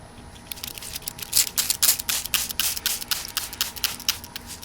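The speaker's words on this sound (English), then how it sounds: "So here I spray this water." A hand spray bottle of onion peel water is pumped repeatedly onto a garden plant's leaves, giving a series of short, close hissing spritzes in uneven rhythm.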